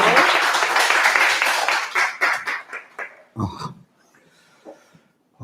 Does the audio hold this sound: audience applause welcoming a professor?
yes